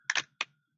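Enter key pressed on a computer keyboard, a quick double click followed by a second single click, close and crisp in a quiet room.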